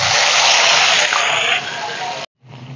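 Ginger and green chili paste drops into hot oil in a kadai in a village kitchen, giving a loud, bright sizzling hiss for about two seconds before it abruptly cuts off, with a softer hiss resuming after a brief gap.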